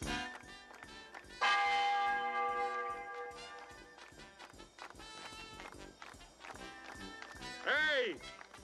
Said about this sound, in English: Ring out the church bells!